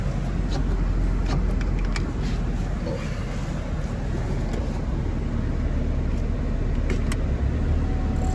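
A 2015 Chevy Spark engine runs steadily while the transmission is shifted through its gears, giving a constant low mechanical drone with light wind noise and a few faint clicks.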